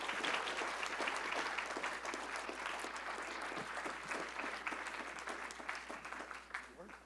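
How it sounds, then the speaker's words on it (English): A crowd applauds Hall of Fame inductees at a university ceremony, sustained dense clapping throughout at steady strength that thins slightly near the end. "One last round of applause, please, for our Hall of Famers"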